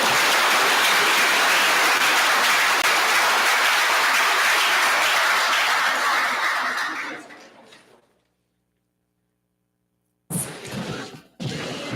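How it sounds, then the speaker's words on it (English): A big audience applauds competition teams at an innovation summit, loud and sustained clapping that fades out after about seven seconds, followed by silence and then a few brief sounds. "Let's give a big round of applause to all of our teams today."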